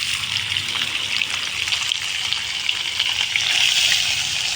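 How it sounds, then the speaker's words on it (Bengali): Chopped coconut pieces frying in hot oil with a bay leaf in a pan, a dense, loud, continuous sizzle that swells slightly toward the end, close up and without speech. "নারকেলটা একটু ভেজে নেব লাল লাল করে"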